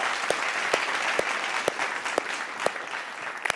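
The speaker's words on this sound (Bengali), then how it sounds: "জোরে হাততালি একটা।" Studio audience on a Bengali TV family game show breaking into sustained clapping, a dense even wash of applause punctuated by a few sharper individual claps, with no talking over it.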